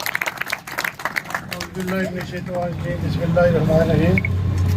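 Crowd applause at a PML-N political reception in Gulhar Colony, Kotli, a burst of clapping near the start, then an announcer's amplified voice carries on over a low steady hum.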